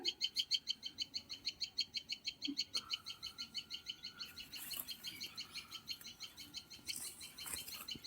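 Birds in a home garden chirp in a fast, regular run of bright repeated notes, fairly close, continuing steadily while a few other calls and light rustling join in toward the end.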